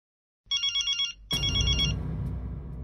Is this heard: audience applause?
no